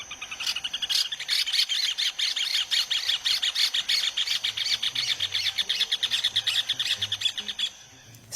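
Rufous hornero (João de Barro) calling: a dense run of bright, rapid chirps and tweets, steady and close, with faint insect buzzing underneath and brief low sounds between calls.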